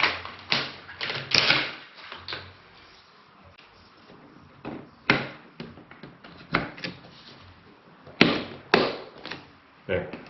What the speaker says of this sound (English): you take your memory stick. It's keyed, so it's actually shorter on one side than the other, the slot. So it only goes one way. There. So it clicks.